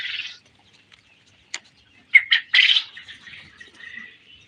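Quail and newly hatched quail chicks calling: short high chirps and squawks, scattered across the clip with quiet gaps, including one louder cluster of calls near the middle.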